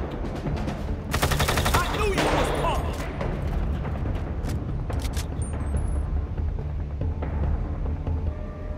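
Loud, continuous GTA 5 zombie-survival combat with bursts of blasts and rapid gunfire, explosions booming over a constant dense rumble.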